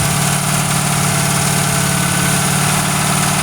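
The engine of a 1971 Torino idles steadily with a dense, continuous rumble, loud and close, with no talking.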